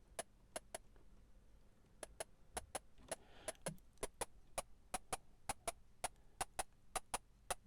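A Joranalogue Orbit 3 synthesizer fires a rapid, steady train of short, spiky metallic hits, each punchy and bright, repeating with a slight rhythmic swing over a low background hum.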